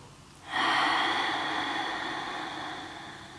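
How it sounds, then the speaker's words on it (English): A single long, slow inhale or exhale in a yoga breathing exercise, a soft airy rush that starts abruptly and fades gradually over a few seconds, close and alone. "Nice smooth long breaths in and out."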